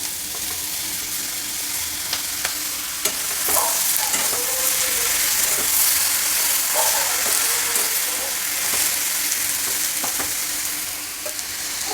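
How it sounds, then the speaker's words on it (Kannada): Onion, garlic and tomatoes fry in a pan with a steady loud sizzle. Occasional scraping and clinking from stirring cut through the hiss. "ಈರುಳ್ಳಿ ಸ್ವಲ್ಪ ಫ್ರೈ ಆಯಿತು ಈರುಳ್ಳಿ ಬೆಳ್ಳುಳ್ಳಿ ಈಗ ಟೊಮೆಟೊ ಸೇರಿಸ್ತಾ ಇದ್ದೀನಿ"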